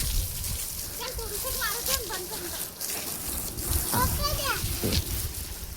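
Water is sprayed and splashes onto a surface in a fairly constant wash of sound, with children and adults talking over it at moderate distance.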